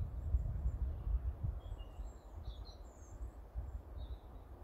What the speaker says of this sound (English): You hear those birds?